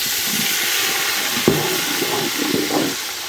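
Steady loud sizzle of onions frying for mutton biryani, with a soft thud and a fresh burst of hissing as tomatoes drop into the pan, crackling continuing throughout.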